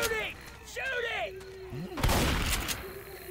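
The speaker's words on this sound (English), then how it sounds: "He's shooting! Shooting!" Gunfire in Left 4 Dead 2 breaks out in a loud, sharp burst of shots partway through, mixed with shouting voices and in-game chatter before and after.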